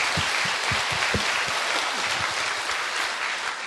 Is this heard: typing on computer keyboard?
no